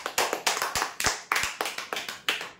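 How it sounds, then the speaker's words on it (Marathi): Applause for a prize draw winner comes as a handful of separate, sharp hand claps at an uneven, slow rhythm, close and moderately loud, from only a few people. "जोरदार टाळ्या होऊ द्या।"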